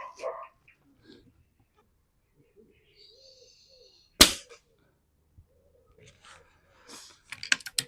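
One sharp, close crack of an Air Arms FTP900 air rifle shot, set up for hunter field target shooting at a 40-yard aim point, standing out against near silence, with faint rustling and a cluster of clicks near the end.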